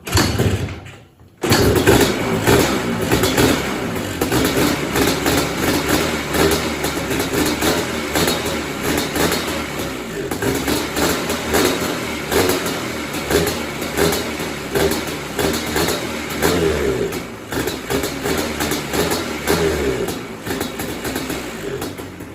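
A choked ATV engine catches after a brief silence and runs loud and continuous for about twenty seconds, a rough steady drone with uneven surges of revving and no talking.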